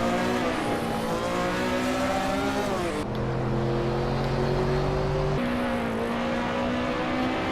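Race car engines roar steadily in a Hot Wheels racing game featuring a Ford Fiesta, holding sustained high revs with abrupt gear-shift pitch changes, loud and continuous with no talk.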